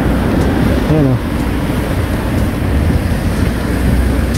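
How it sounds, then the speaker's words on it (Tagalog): A fast-flowing stream rushes steadily and loudly close by, with a continuous broadband hiss. "Masarap pakinggan ang tubig sa batis."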